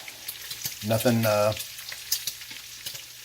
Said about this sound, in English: We're going to bring those ingredients up to a boil.